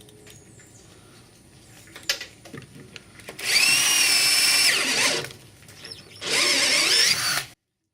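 A power drill bores a hole through an aluminum swing keel in two loud sustained bursts, each high-pitched whine lasting about a second or two, preceded by quieter handling clicks.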